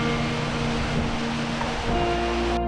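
Steady rushing water from the indoor waterfall in the Cloud Forest dome at Gardens by the Bay, a constant broadband roar with no talk over it.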